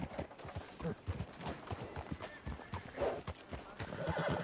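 Horse hooves clip-clop in a steady rhythm with whinnying neighs in Red Dead Redemption 2, the hoofbeats close and continuous, a neigh rising partway through over ambient game sound.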